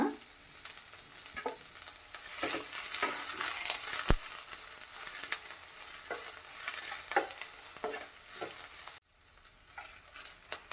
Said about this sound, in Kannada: ಹಾಕ್ಕೊಂಡು ಒಂದು 10 ಸೆಕೆಂಡ್ ಫ್ರೈ ಮಾಡಿಕೊಂಡ್ರೆ ಸಾಕು